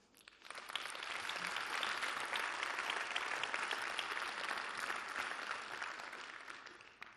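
An audience at an EPFL Alumni gala applauds new graduates, a dense, steady burst of clapping that swells quickly and holds for about six seconds before fading.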